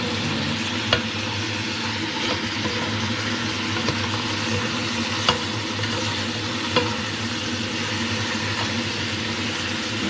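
Onions sautéing in a pan give a continuous close sizzle, punctuated every second or so by light clicks of a utensil stirring, with a low steady hum underneath and no voices.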